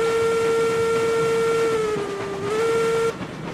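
A steam locomotive whistle in the railroad game RailRoads Online blows one long, loud, steady tone that wavers slightly in pitch near the end before cutting off, leaving a softer hiss behind.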